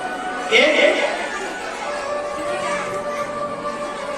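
An audience at a religious discourse in Agra, with children chattering and giggling nearby, a burst of a voice near the start, then a lower steady murmur of voices.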